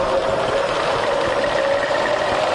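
A Bridgeport milling machine spindle turns in low range at about 120 RPM, giving a steady, close mechanical hum with a sustained whine that stays even throughout, with no voices.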